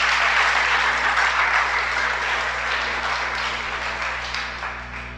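Sustained applause from a congregation at a Shabbat sermon, a dense steady wash of many hands clapping together, full and close, gradually easing off over its length with no voices on top.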